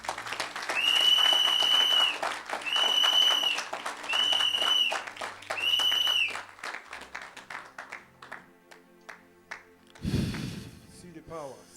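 A church congregation applauds in several loud bursts of clapping, with whoops and shouts over it, then the clapping thins out and stops as a voice briefly takes over near the end.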